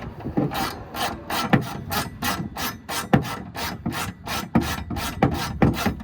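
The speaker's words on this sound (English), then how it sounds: "you're going to take your 10mm socket, and you're going to drive these in" A 10mm socket drives bolts into a sliding MOLLE panel mount on a 2015-or-later Ford F-150, a steady rasping ratchet with repeated quick clicking strokes, close and alone.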